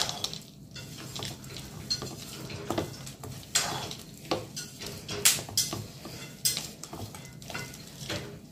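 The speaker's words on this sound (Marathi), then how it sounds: "आता ते ठेवलेले शेंगदाणे त्यात मिक्स करून घ्या।" Peanuts being stirred into a jaggery laddu mixture, with irregular scraping and clinking of a spoon against a bowl in uneven bursts, close and moderately loud, with no talk.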